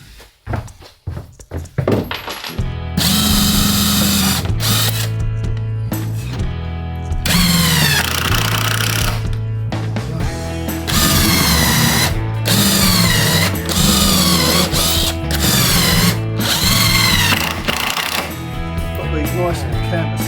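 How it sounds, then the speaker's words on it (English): A power drill with a countersink bit bores through 25mm plywood inside a Mercedes Vario camper, a loud sustained whine rising and falling in several long bursts with brief pauses between them. "I've adjusted the drill bit so that it goes through the 25mm plywood"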